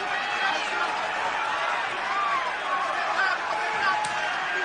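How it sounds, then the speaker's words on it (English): A dense arena crowd at a UFC event in Melbourne roars and chants steadily for Anderson Silva, a loud continuous wash of voices heard from within the stands. "I believe I'm hearing Silva chants here in Melbourne"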